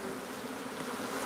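A swarm of bees buzzing inside a house soffit, a faint, steady, dense drone with no pauses.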